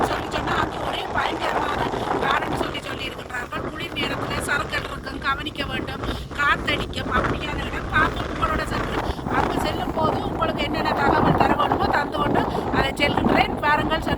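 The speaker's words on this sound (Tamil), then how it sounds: "நிற்கவே காற்று குளிராக இருக்குது" Cold wind blowing through a snowy forest near Trondheim, Norway, a steady broadband rush that swells louder toward the end, with a person speaking over it throughout.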